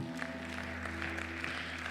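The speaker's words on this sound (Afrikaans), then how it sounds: "Geef vir haar hande klap, man." An audience claps for a young performer at a church youth event, a faint, steady patter of applause heard from a distance under a constant low hum.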